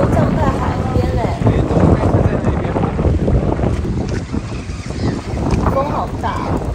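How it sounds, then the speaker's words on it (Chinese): Strong wind buffets the microphone at the seaside in Las Grutas, Río Negro, Argentina, at high tide, a loud steady roar with gusts throughout and a voice talking over it. "风好大。"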